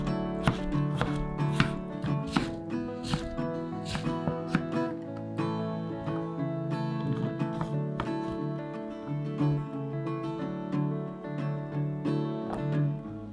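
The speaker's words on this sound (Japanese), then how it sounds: "きゅうりをカットします。" A knife chops cucumber into cubes on a cutting board, a quick run of crisp, close taps in an uneven rhythm, with soft music playing underneath and no talking.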